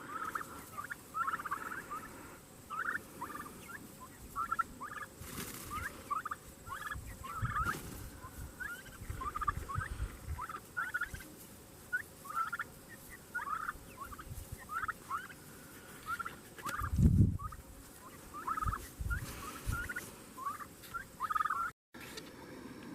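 Turkeys on a homestead gobble repeatedly in bursts, a flock calling over one another at moderate distance, with a brief low thump partway through.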